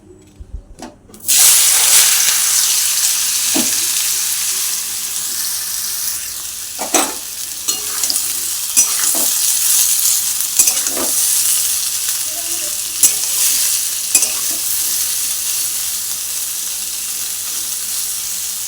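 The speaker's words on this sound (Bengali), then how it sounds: "তেলটা গরম হয়ে গেছে লতিগুলো ভেজে ফেলবো" Taro stolons drop into hot white oil and set off a loud, continuous sizzle after a brief quiet start, with occasional clinks and stirring sounds along the way.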